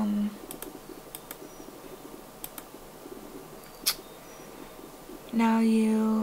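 Scattered keystrokes on a computer keyboard, a few sharp clicks spread over several seconds in a quiet room, followed by a louder steady tone near the end.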